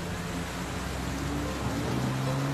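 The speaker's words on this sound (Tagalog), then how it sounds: "Malakas ang ulan." Heavy rain falling outdoors as a dense, continuous broadband hiss, steady and fairly loud for the whole stretch with a low background hum beneath.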